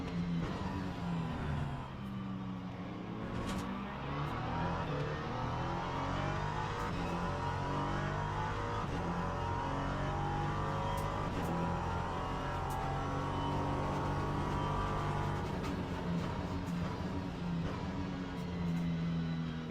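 A racing car in a video game drives on with a punctured tyre. The engine drones and revs steadily and close, rising and falling in pitch with the gear changes, and no one speaks.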